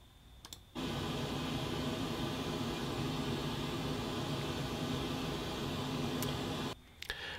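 A continuous broadband hiss of pink noise test tone plays steadily from a left surround speaker for about six seconds, starting and stopping abruptly, with faint clicks before and after.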